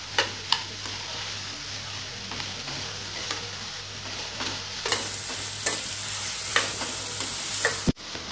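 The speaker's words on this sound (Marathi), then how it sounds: "हे थोडंसं असं तेल सुटेपर्यंत असंच आपल्याला परतून घ्यायचंय" Crushed garlic cloves and bottle gourd sauté in hot oil, a constant sizzle broken by sharp scraping and clicking stirs of the spoon against the pan, close and fairly loud, with no voices.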